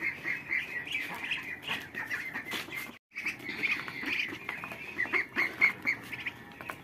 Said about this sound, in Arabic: ده البط المولري ابو عين حمراء